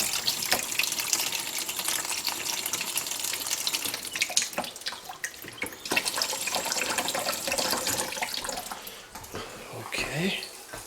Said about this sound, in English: We got water coming out here, so that's a little screwed up.